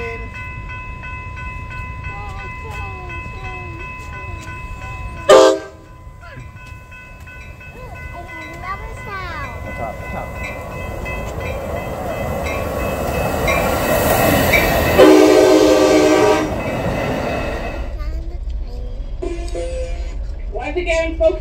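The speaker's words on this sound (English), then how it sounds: "A train." A train rumbles past with a growing roar, sounding its horn in a sharp blast and then a longer one as the cars clatter by; people talk nearby.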